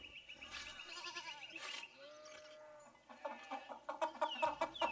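Chickens cluck and squawk in the video game Pentiment, a busy, close flurry of fowl calls with a rooster-like cry, louder toward the end, with no talking.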